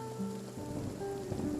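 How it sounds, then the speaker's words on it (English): Rain falls in the fantasy video game Mortal Online 2, a constant steady patter layered over sustained tonal game music, moderately loud and without speech. "It's rainy here and loud."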